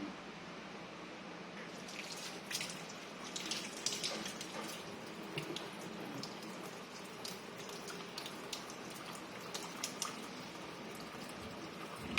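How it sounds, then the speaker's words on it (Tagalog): Hands being washed under a running tap during a clinical demonstration, a steady close splashing water stream lasting throughout with no talking. "We are going to do the hand washing."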